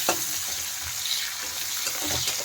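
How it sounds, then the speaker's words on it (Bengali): Chopped onion sizzles in hot oil with fried cumin and bay leaf, a steady close crackling hiss with a stirring scrape at the start and faint clinks throughout. "এখন কুচনো পেঁয়াজ দিয়ে দিচ্ছি।"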